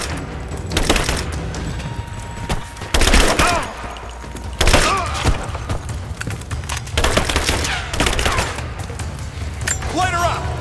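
Bursts of covering gunfire in Rise of the Tomb Raider, loud rattling volleys and heavy booms arriving in waves over roughly ten seconds, mixed with shouting voices.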